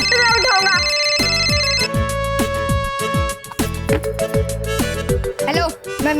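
A phone ringtone for an incoming call plays loud and continuous, a busy melodic tune with repeated notes over a steady beat, with no talk over it.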